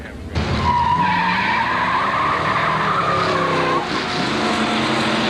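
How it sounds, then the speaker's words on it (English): A 1940s Ford roadster slides sideways during an antique-car drag race at Carlsbad Raceway in San Diego, its tires squealing loudly over a steady engine roar for several seconds. "And the little roadster gets a bit sideways."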